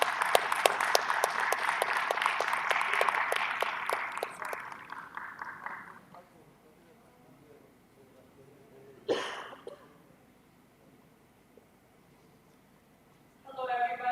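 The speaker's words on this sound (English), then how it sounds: "Let's welcome her with a big round of applause" A conference audience applauds to welcome a keynote speaker to the stage, a dense burst of many hands clapping that fades out after a few seconds, followed by quiet room tone and a brief noise.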